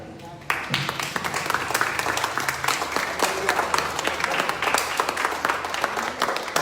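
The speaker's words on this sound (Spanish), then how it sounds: "dale esa ofrenda de palmas al Señor" A church congregation bursts into loud, sustained clapping that starts abruptly and carries on with sharp individual claps over crowd noise and voices, part of a lively worship service.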